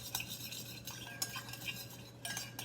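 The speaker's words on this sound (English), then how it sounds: "I just want to whisk" A spoon whisks a mango-habanero-thyme sauce in a small bowl, giving quick bursts of clinking and scraping strokes with short pauses between them, close and fairly quiet over a steady low hum.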